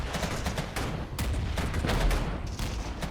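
Artillery and mortar fire in the war game Regiments, loud overlapping booms and rattling gunfire in a continuous barrage, with deep thuds underneath and no voices over it.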